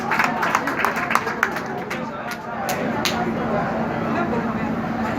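Audience applause at a live folk-craft performance event in Hong Kong, a burst of scattered clapping from a crowd that thins out, with lively chatter mixed in.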